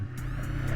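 A 2012 Honda CBR 125R Repsol motorcycle engine running just after ignition, a brief close, steady low idle hum with a fast regular pulse and no voices.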